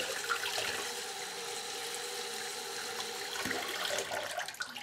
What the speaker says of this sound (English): So I just wash the leaves and make sure all that is clean.